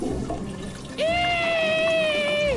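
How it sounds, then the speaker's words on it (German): Toilet flush in the video game Goodbye Deponia: a sudden loud tonal whoosh of rushing water starts after a second and holds steady for about a second and a half, close and alone. "Spülung."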